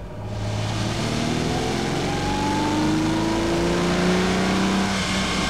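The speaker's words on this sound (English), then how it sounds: "Well, I'm just going to accelerate very slightly in it." A Ferrari 250 GT Coupe engine revs gently from about 2000 up to 4000 RPM on a road test, a smooth, rising, full-throated tone heard from inside the car, steady and clear with no voices.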